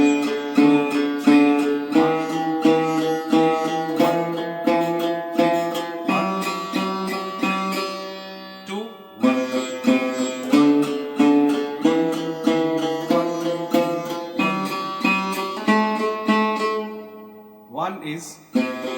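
Sarod practice in a descending pattern, plucked strokes repeating in steady groups with bright ringing metallic strings and sliding pitches, close and clear, played alone for the whole stretch.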